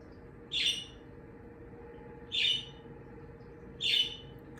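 A bird gives three evenly spaced, sharp high calls about every second and a half, each clear and fairly close, over a steady low background hum.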